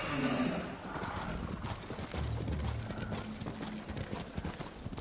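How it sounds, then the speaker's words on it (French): In the video game Ghost of Tsushima, a horse gallops with a quick, rhythmic clatter of hooves and lets out a neigh, while someone talks over it. "Le cheval, il s'est foutu de moi encore"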